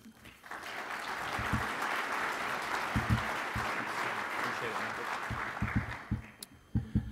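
An audience in a banking and blockchain talk breaks into steady applause welcoming a speaker named Gary, dense clapping sustained throughout with a few louder claps near the end.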